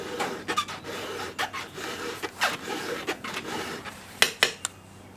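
A file rasps across a saw chain during square filing, with irregular short scraping strokes and metallic clicks that come close together and grow sharper near the end.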